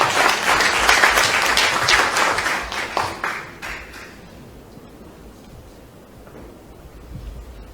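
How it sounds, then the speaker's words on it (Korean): Applause from a large crowd of party members at a Democratic Party joint campaign rally in North Gyeongbuk, loud and dense for about four seconds, then thinning to scattered claps and a quieter room. "뜨거운 박수로 맞아주시기 바랍니다"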